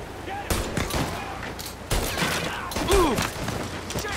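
Enemy gunfire in the Mafia Definitive Edition video game, with scattered sharp shots and short bursts crackling at middle distance over a busy game mix, while a voice talks between the shots.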